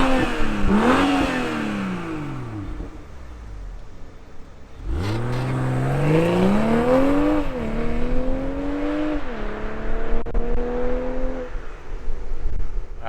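A 2021 BMW M440i coupe's straight-six, paired with an 8-speed automatic, fires up with a sharp rising bark, then revs in several swelling blips that climb and fall before settling into a steady, close idle, with no talking.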